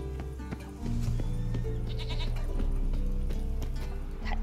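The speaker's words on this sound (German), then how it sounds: "Eine Ziege." Goat bleating in the Witcher 3: Wild Hunt video game, a few wavering, tremulous bleats close up over a faint game ambience and music bed, with no talking.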